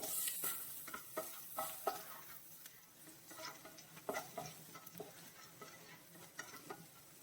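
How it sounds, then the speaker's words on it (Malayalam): Three cloves of crushed garlic frying in a pan for a kovakkai (ivy gourd) dish: a soft steady sizzle with scattered clicks and scrapes of a spoon stirring, fairly quiet and close, with no voices. "വെളുത്തുള്ളി ഒന്ന് മൂത്ത് വരട്ടെ"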